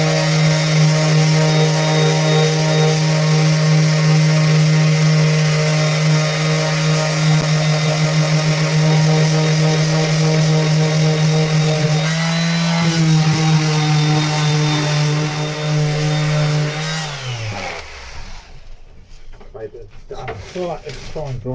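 A power tool grinds out old sealant on boat lockers with a loud, steady high whine that shifts pitch slightly midway, then winds down and cuts off near the end, leaving scraping and rustling.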